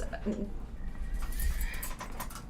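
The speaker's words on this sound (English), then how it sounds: "but I think my bird wants attention." A pet bird calling for attention, a few soft cooing calls mixed with indoor background noise at moderate distance, with no clear talk over them.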